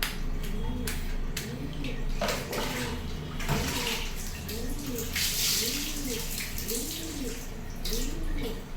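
A little girl plays in a tub of lukewarm water during Holi, and the water sloshes and pours continuously while fainter, sing-song voices rise and fall beneath the steady splashing.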